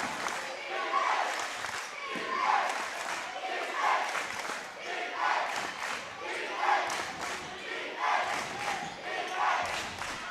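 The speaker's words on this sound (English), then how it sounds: "Crowd on its feet, yelling defense." High school basketball crowd on its feet chanting and yelling defense, a dense, steady rhythmic roar of many voices filling the gym with pulsing shouts, with a commentator talking over it.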